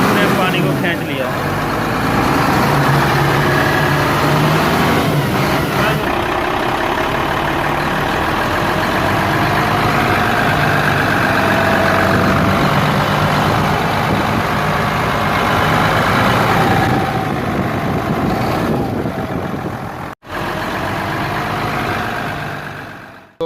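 A Dongfang truck engine idles with a steady, low diesel rumble nearby while someone talks over it; the sound cuts out briefly near the end.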